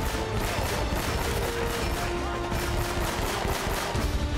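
Dense, continuous gunfire from several weapons, including rapid automatic bursts, in an Uncharted: Drake's Fortune firefight. The shots are loud and unbroken throughout, with no voices.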